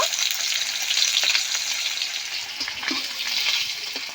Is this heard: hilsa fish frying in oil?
yes